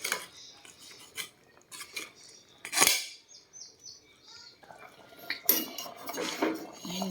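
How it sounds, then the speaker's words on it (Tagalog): A spoon stirs lechon paksiw, a pork head stew, in a pot, giving faint scattered clinks and scrapes of metal against the pan. "haluin ko lang guys. Para ma-distribute yung sarsa"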